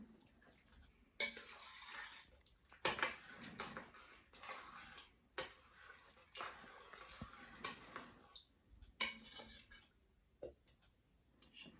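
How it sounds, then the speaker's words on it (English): A utensil clinks and scrapes against a pot in bursts, with faint sloshing between strokes as elderflower cordial is stirred; no voices. "Give it a really good stir."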